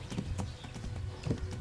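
Horse galloping in the video game Kingdom Come: Deliverance, a quick rhythmic clip-clop of hooves at moderate volume, steady and close.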